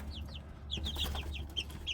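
Young chicks, likely Silkie and Polish breeds, peep and cluck in quick, rising chirps scattered over a low background hum, fairly close and with no talking.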